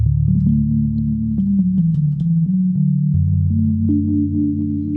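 A Vongon Replay synthesizer plays a sustained sine wave tone, loud and steady, stepping between low pitches with soft attacks and no talk over it.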